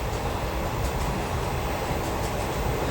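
The Amaravati Express rumbles through Hannigeri railway station, a steady loud roar of rolling wagons with faint rhythmic clicks and a few brief higher squeals, heard from on board with no voices.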